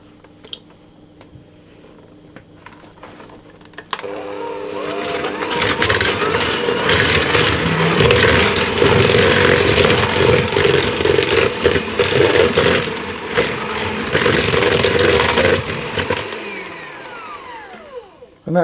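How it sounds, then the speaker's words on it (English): Pudding batter for a steamed apple sponge pudding is whisked until light and fluffy, a loud, continuous whirring close by that runs about twelve seconds before stopping. "So I'll whisk that together until the whole thing is light and fluffy."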